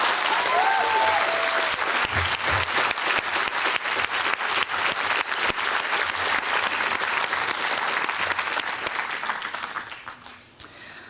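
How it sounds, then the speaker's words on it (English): Sustained applause from a large audience at a school prize day, dense, continuous clapping that holds steady for about ten seconds before tapering off, with faint crowd murmur underneath. "So a big applause to this year's recipient of the World Language Certificate of Distinction, India Ellis."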